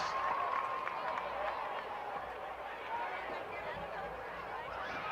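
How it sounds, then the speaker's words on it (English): Crowd in the stands at a high school football game between Santa Paula and Fillmore claps and cheers in steady, moderately distant applause, with crowd babble mixed in throughout. "Give a big round of applause."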